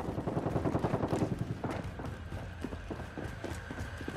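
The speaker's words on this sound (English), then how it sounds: "I don't know where that gunfire was." Gunfire in Call of Duty Warzone, a burst of rapid shots up front easing into scattered, quieter pops and thuds, with no talk over it.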